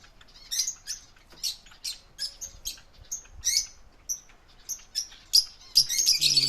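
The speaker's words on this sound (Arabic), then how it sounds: "هسه اريد اصوركم الطيور" Ornamental birds kept in a cold outdoor aviary give a steady run of short chirps and sharp squawks, clear and fairly close, with no voices.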